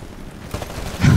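Brief gunfire from a Titanfall match, a few muffled shots cracking close before a louder, denser burst swells at the end.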